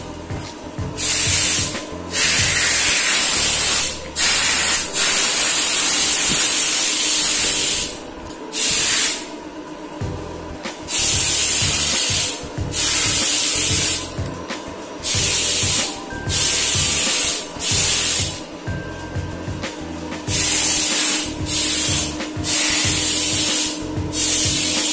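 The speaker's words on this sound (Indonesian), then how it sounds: "Air-air yang masih ada di handle itu disemprotin." Compressed air blasts leftover water off the door handles of a Honda Civic Wonder during a car wash, coming as loud repeated hissing bursts of a second or two each with brief gaps between them.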